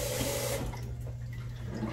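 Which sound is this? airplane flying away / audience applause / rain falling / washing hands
washing hands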